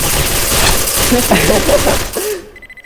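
Dense rapid gunfire from the video game Special Force crackles continuously with mechanical clatter, fading out abruptly at the end, while a voice briefly calls out over it.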